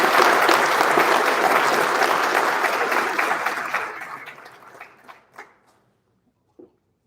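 A large audience at a winter graduation convocation applauds warmly, steady and full for several seconds before thinning out to a few last scattered claps.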